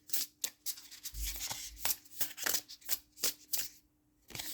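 Tarot cards being handled and shuffled, a run of crisp riffling slaps and flicks in irregular bursts with a short pause near the end, close and fairly quiet, no voices.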